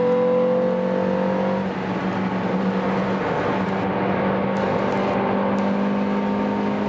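Ford Ide Coupe race cars accelerate side by side, a loud, sustained engine drone with steady tonal hums that holds across the whole stretch with no talk.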